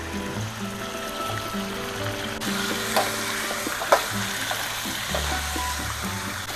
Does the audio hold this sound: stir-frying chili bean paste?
yes